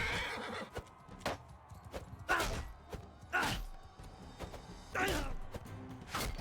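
A horse in Mount and Blade II: Bannerlord whinnies repeatedly between sharp hoof thuds and impacts during a tournament fight, loud and close, with game clatter around it.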